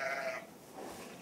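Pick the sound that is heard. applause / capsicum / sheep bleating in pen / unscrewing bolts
sheep bleating in pen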